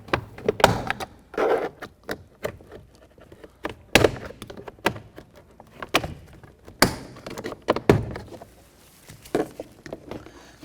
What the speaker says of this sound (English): You're going to hear those plastic pins popping out and releasing.